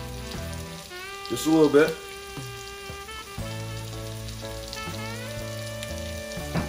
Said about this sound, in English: The heat is still going on here, so I'm just stir this around.